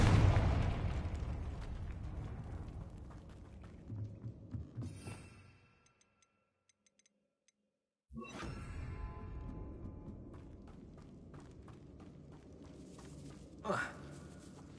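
A loud, close blasting-spell explosion, a Confringo cast, bursts out and rumbles away over several seconds before near silence, then a second noisy burst follows with a sharp pop near the end; a voice calls out.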